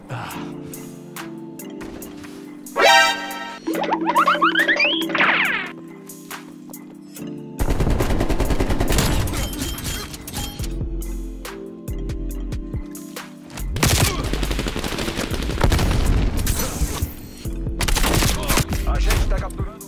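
Sniper rifle fire and other gunfire in a Brazilian video game match: sharp repeated shots and bursts, some loud and close and others distant, with short gaps between them and brief voices underneath.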